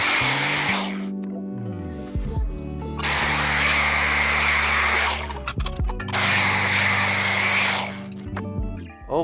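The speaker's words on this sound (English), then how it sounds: "I'm gonna get the sharp edges off, sand the rust off" A power sander grinds rust and sharp edges off damaged body panels of a crashed Toyota GR Supra, running loudly in two long passes with a brief pause between, its motor whining down and spinning back up.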